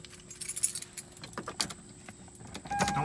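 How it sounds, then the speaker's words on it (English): A key jingles and turns in the ignition of a 1992-1995 Lexus SC400, with close metallic jangles and clicks inside a quiet cabin. "turn your key to the run"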